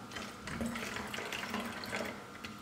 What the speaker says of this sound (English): I think I'm just going to put tea in here.